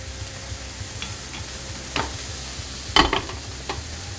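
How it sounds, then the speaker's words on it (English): A stovetop dip base for a cheese dip is stirred in a hot pan, with a soft sizzle under several distinct scraping strokes of the spoon, close and clear, with no voices. "So give it about half a minute. And stir it up, stir it up."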